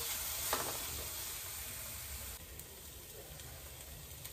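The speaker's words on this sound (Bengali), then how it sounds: "মশলাটা ভালো করে কষে নিচ্ছি" Masala with chili powder sizzles softly in a pan for egg curry, a faint continuous frying hiss that drops a little lower partway through.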